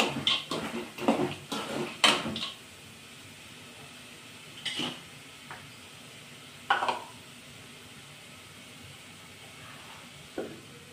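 Spices being fried and stirred in a pan give a soft, quiet sizzle, with a few sharp scraping and clinking stirs early on and sparse stirring knocks later.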